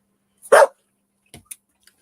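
A dog gives one clear, close bark outdoors under an awning, followed by a couple of fainter, shorter yips or noises, with quiet gaps between them.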